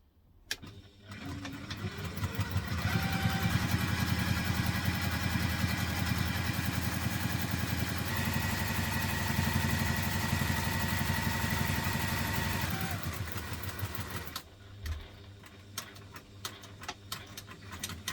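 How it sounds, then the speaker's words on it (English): A sewing machine on a small stitch length runs a seam on a backpack, a steady motorized whir with fast rhythmic ticking of the needle that holds for about ten seconds, then winds down and stops. "Now let's sew this one back down, making sure we're on small stitch length"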